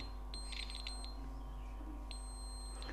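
A multimeter on continuity test beeps across a shorted phone circuit board, giving sharp high electronic tones in two short bursts, the first around half a second long and the second near the end, over a low steady hum.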